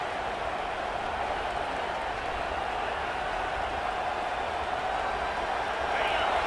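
A football stadium crowd at a Tennessee versus Alabama game keeps up a steady, dense roar throughout, with a commentator's voice running over it.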